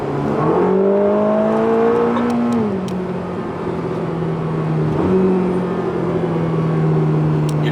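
A Ferrari Roma sports car accelerating from inside the cabin, the engine note rising steadily through the gears, dipping briefly at each shift and then climbing again, loud and continuous throughout.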